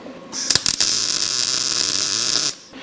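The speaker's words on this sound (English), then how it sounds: "I'll work my weld along here" MIG-style welding on the rocker panel of a 1952 Chevy: a steady, close electric buzzing hiss for about two seconds, opening with a few sharp crackles as the arc strikes, then cutting off abruptly.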